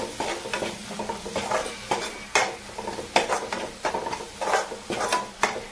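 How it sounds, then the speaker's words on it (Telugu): Coriander powder and garam masala fry in a pan for prawn curry, heard as a loud close sizzle broken by repeated scraping stirs of a spoon against the pan at an uneven rhythm, with no voices. "ఇప్పుడు 1 స్పూన్ ధనియాల పొడి, 1 స్పూన్ గరం మసాలా బాగా ఫ్రై చేసుకోవాలి"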